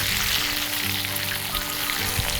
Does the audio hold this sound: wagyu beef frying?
yes